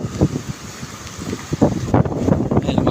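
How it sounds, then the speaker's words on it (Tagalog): Strong wind roars steadily by a lake at Copratil amid rain and waves, a broad rushing gust that buffets the microphone and grows louder and rougher in the second half. "talaga sobrang lakas ng hangin"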